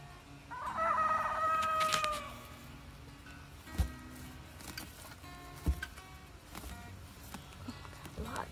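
A rooster crows loudly near the start of a morning garden scene, followed by scattered soft clucks and a few sharp knocks from the chickens against a quiet outdoor background.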